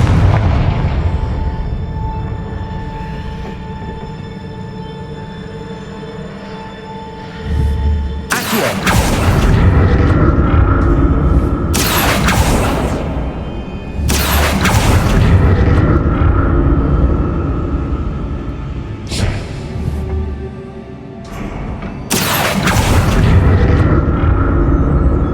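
Several loud, sharp magical blasts from the Confringo fire spell in the video game Hogwarts Legacy, each a sudden bright burst with a rumbling tail, spaced a few seconds apart over a steady low game ambience.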